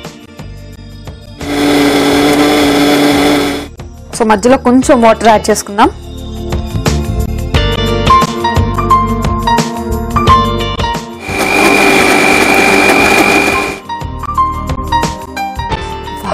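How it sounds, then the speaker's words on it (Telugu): A kitchen mixer grinder blends Mysore chutney in two loud whirring bursts separated by clinks and handling noise, with a person talking in between. "ఓకే ఇప్పుడు దీన్ని మిక్సీ చేసుకుందాం."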